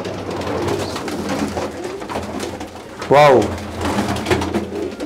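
Pigeons coo at a pigeon farm, soft repeated throaty calls close by amid a busy background, with one louder rolling coo standing out midway while someone speaks briefly.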